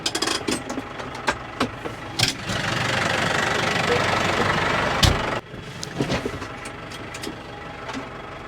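A tractor engine runs steadily at a medium rumble, close by, with a few sharp clicks and knocks around it and a brief loud bump near the end.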